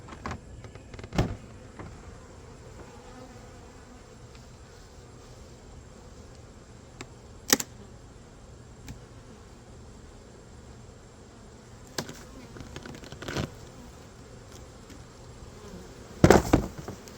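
Honey bees buzz around an open glass hive, a faint steady hum with scattered louder passes close by and a few brief knocks of handling.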